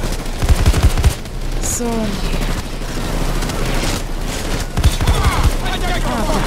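Enemy gunfire in PayDay 2 comes as loud, rapid automatic bursts, with a cluster at the start and another around the middle. Game effects and players talking run underneath.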